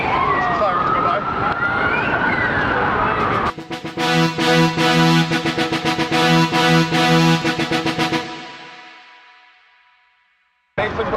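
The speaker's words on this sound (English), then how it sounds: "sirens go by." Sirens wail and swell close by, shifting to a rapid pulsing yelp, then fade into the distance as the vehicles pass.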